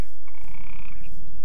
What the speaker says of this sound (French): Oh, une grenouille.